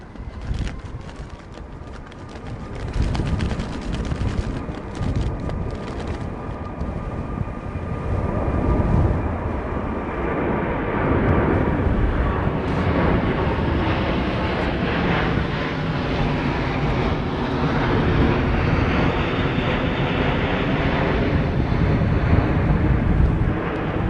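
An airliner going around at London Heathrow during Storm Darragh, heard from the ground: a swelling jet roar that builds and stays loud, mixed with heavy gusting wind buffeting the microphone.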